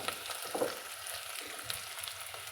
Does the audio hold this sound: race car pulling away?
no